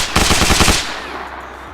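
A short, loud burst of full-auto gunfire in the Arma Reforger video game, about eight rapid shots close up, followed by a long echoing tail, no speech.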